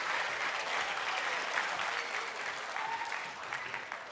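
Audience applause fills a lecture hall at a Christmas lecture, steady and dense throughout with no break, a sustained wash of many hands clapping together.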